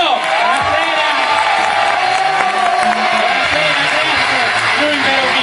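A live concert audience at an outdoor kiosk in Iglesias cheering, whooping and shouting in a loud, sustained crowd roar, close by, with a voice calling out over it.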